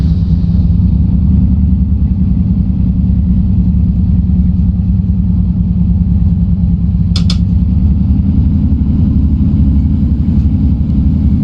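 A British Rail Class 153 diesel railcar in a train simulator pulls away, its engine droning in a steady, loud low rumble that firms up slightly as it departs, with one brief sharp click partway through.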